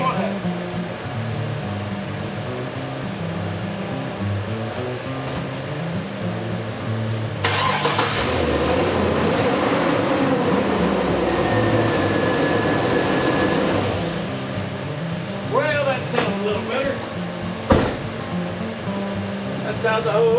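Engine of a 2002 Chevy pickup with a new exhaust manifold turns over and settles into a steady idle partway through, with a voice heard near the start and some clatter toward the end.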